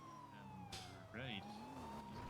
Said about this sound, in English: I hear more sirens